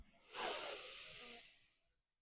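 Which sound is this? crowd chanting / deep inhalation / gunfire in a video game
deep inhalation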